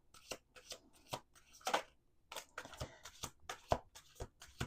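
Playing cards riffle and snap in quick bursts, several shuffles with short pauses between, close and crisp with no talking.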